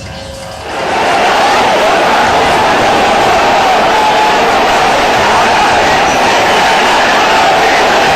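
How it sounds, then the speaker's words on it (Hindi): Thousands of protesters marching through the streets of Old Delhi against the citizenship law, a dense, steady crowd roar that swells after the first second and holds loud and continuous, with no distinct chant words standing out. "लोगों की ये भीड़ नारेबाजी और पोस्टर बैनर के साथ मार्च, ये आक्रोश नागरिकता कानून के खिलाफ है।"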